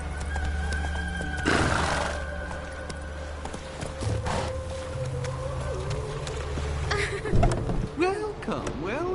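Roach, the horse in The Witcher 3 video game, runs with rhythmic hoofbeats and a whinny, alongside ambient game sounds and a few brief spoken voices.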